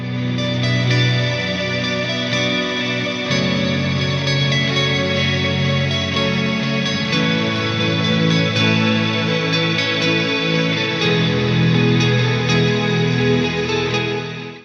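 An electric guitar plays with extreme reverb, its chords washing into a dense, smeared ambient wall of sustained echoing tones that carries on without a break for about fifteen seconds.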